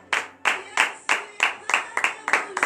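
Congregation clapping in unison during a Friday morning prayer service in Benin: eight sharp, evenly spaced claps in a steady rhythm, close and clear, with no voices over them.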